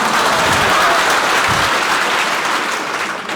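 A large group claps together at a lecture class, dense steady applause holding loud throughout before easing slightly near the end.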